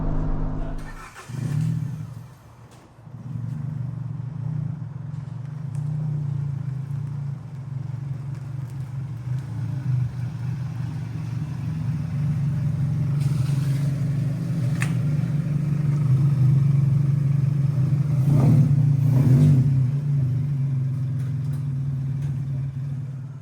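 An old Hyundai car engine strapped on a dyno, starting and then holding a steady droning run that builds gradually louder toward a peak, close and unaccompanied by talk.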